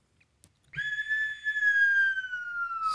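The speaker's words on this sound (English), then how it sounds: "Slide whistles." A slide whistle blows one long sustained tone after a short knock, the pitch holding steady and then gliding slowly downward near the end, loud and close with no talking.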